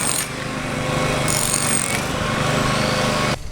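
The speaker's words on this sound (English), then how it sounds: "There's people drilling and banging" Roadworks near Hull Marina: loud, continuous jackhammer-style drilling and banging close by, with a brief break in the noise near the end.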